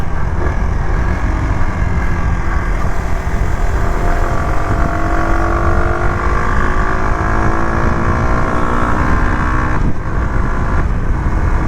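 A Rieju Marathon MRT125 Pro motorcycle, still being run in, rides along wet roads strewn with leaves, its engine droning loud and close with rising revs through the gears and tyre hiss underneath.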